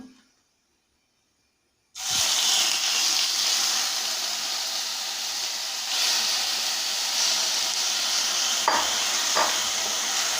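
Marinated chicken drops into a hot pan over high flame, and after a moment of near silence a loud, steady sizzling hiss bursts in and keeps going, with a couple of sharp spatters near the end.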